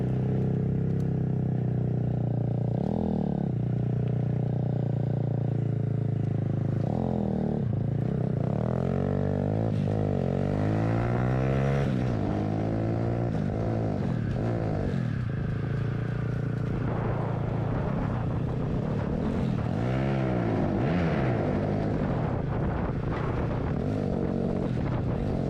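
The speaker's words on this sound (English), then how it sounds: "he changed the exhaust, so the bike has a little bit loud sound" A motorcycle with a modified loud exhaust riding through traffic, a constant droning engine with rising and falling revs as it accelerates and shifts, heavy wind rumble over it throughout.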